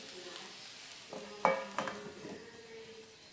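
Leftover chapati pieces are tossed with Maggi noodles in a pan, with soft sizzling underneath and a few sharp scrapes and clinks of a spoon against the metal, spaced irregularly and close by.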